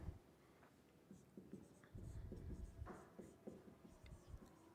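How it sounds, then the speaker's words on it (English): A pen or marker scratches across a board in quick strokes, faint and close, forming short bursts of writing with small gaps between words. "And I'm going to write in here."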